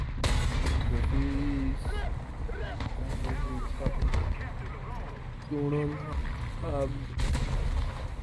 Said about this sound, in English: Oh, I hit this guy with the artillery.